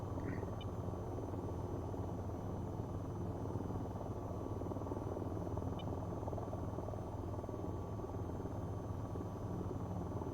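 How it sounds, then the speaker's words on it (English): Steady, loud rotor-like engine drone of an aircraft settling down to land in the VTOL VR flight game, a continuous buzzing roar filling the whole stretch with no talk. "Nice landing, although, to be fair, I've seen better."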